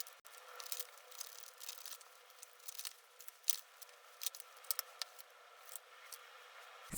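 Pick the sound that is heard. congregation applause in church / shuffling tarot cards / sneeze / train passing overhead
shuffling tarot cards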